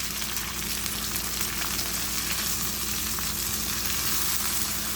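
Ginger garlic paste and tomato paste frying in a pan for a chicken kabab masala gravy, a steady close sizzle and crackle with no talking.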